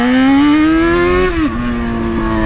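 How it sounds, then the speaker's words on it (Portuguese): A Yamaha XJ motorcycle engine revs up loudly and holds a rising, buzzing pitch, then drops abruptly and settles into a steady lower drone, close by and alone without talk. "A XJ pode ter até um barulho assim mesmo, né?"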